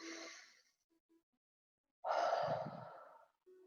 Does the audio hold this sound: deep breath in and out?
yes